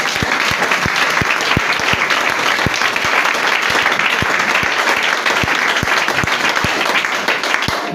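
A church congregation claps in loud, steady applause for Jesus, many hands beating continuously with audible crowd cheering mixed in throughout.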